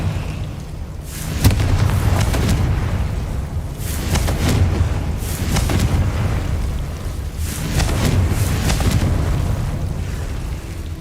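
Confringo fire spell blasts in the video game Hogwarts Legacy, a run of loud booming explosions that roll out at intervals over a steady rumble, with no talking.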